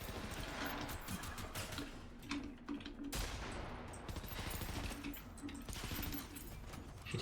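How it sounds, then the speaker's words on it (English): Rapid bursts of gunfire from a Paladins online shooter match, dense and continuous across the whole stretch with only a brief lull near the middle. "This gun's so inaccurate."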